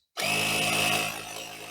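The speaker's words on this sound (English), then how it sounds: "we've actually got an air hose because we have a built-in compressor" A built-in air compressor on an off-road vehicle kit starts abruptly and runs steadily, pushing air through a hose with a loud continuous mechanical hum and hiss that eases slightly near the end.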